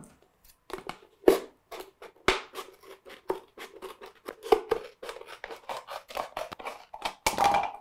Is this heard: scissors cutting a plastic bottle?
yes